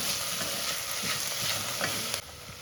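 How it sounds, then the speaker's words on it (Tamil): Mint and coriander leaves sizzle and fry steadily in a pan for mushroom biryani, with soft stirring scrapes throughout and a slight drop in level near the end. "இதையும் நல்லா வதக்கி விட்டுடலாம்"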